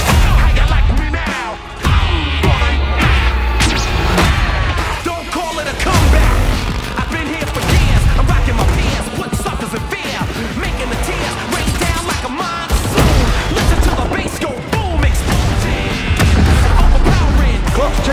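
Gunfire and explosions fill a Call of Duty Warzone battle-royale trailer, with dense, loud bursts and booms running almost continuously beneath an energetic music track and shouted voices.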